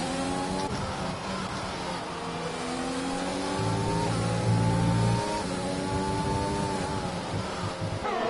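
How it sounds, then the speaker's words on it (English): A racing car's engine in a sim racing game revs steadily with rising and falling gear pitches, a sustained near whine that swells louder midway, with brief lifts between shifts and no voices. "stepping the throttle"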